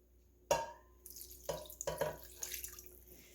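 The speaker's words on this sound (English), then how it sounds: "Now you're going to put water." Tap water splashes into a pot for steaming artichokes in a kitchen sink, starting with a sharp burst then sputtering and trickling unevenly, quiet and close with no speech.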